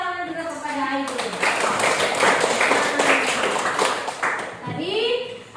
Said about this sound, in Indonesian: Berikan tepuk tangan juga kepada Aidil